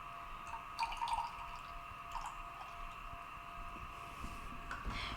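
Liquid drips and trickles into a glass test tube during a home chemistry experiment, a few soft irregular drops and small splashes, near and fairly quiet with a faint steady hum underneath.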